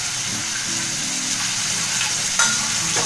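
Macaroni masala frying in oil with spices gives a steady, close sizzle while it is stirred, with a soft scrape partway through.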